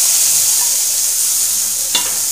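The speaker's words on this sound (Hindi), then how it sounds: "अब इसको हम भूनते हैं मसाले को।" Masala of onion and tomato frying in a pan gives a steady, close hiss of sizzling that holds through the whole stretch, with one sharp clink of a spoon stirring near the end and no voices.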